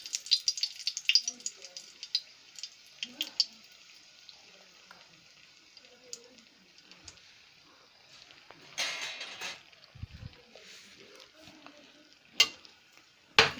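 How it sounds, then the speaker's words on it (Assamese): Two dried chilies fry in hot oil for an Assamese nil kachu dish, giving a steady faint sizzle with occasional stirring rattles and a few louder clanks, while a voice speaks intermittently over it. "ইয়াতে মই শুকান জলকীয়া 2টা আগে পেলাই দিওঁ"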